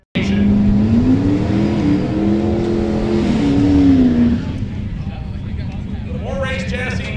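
A drag racing car makes a pass at Bradenton Motorsports Park, its engine revving hard with rising pitch before fading away, loud and close under steady background noise.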